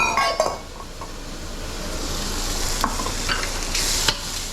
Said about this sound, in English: I'm going to add my bacon in there